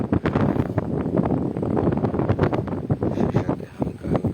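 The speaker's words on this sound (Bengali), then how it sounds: "প্রচণ্ড বাতাস হচ্ছে।" Strong wind buffeting the microphone in loud, irregular gusts that roar and rumble through the whole stretch, with no voices present.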